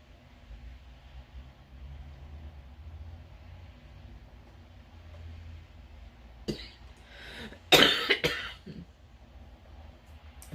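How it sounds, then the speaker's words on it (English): A person in a quiet room with a low background hum coughs a few times: one short cough, then a louder burst of harsh coughs that trails off. "trying not to cough."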